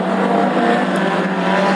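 Classic hot rod race cars battle on an oval track, engines droning loudly and steadily as the pack runs together, with no voices heard.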